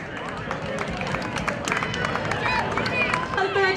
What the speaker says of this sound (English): Let's clap her on to the finish.